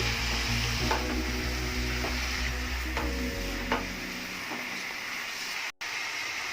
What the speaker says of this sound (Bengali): এবার পেঁপেটা যেটা গ্রেট করে রেখেছিলাম সেটা দিয়ে দেবো। ভালোভাবে নেড়ে নিয়ে